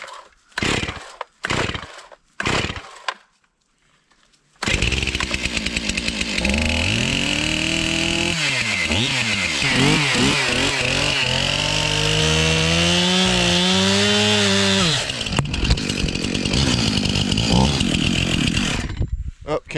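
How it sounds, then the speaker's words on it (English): An old Farm Boss chainsaw, idle for a month or two, is started and used to cut wood: a few short pull-start bursts, then the engine catches and runs loud and close, revving and bogging as it saws. "it's been a month or two since started the chainsaw, so we'll see how she does"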